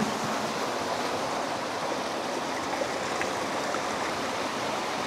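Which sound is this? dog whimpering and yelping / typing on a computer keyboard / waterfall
waterfall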